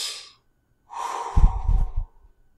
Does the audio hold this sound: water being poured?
no